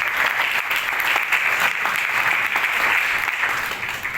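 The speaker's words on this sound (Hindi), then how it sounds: "एक जोरदार तालियों से" Steady, dense applause from a crowd at a stage function honoring local entrepreneurs, sustained clapping at even loudness for several seconds and easing slightly at the end, with no talking over it.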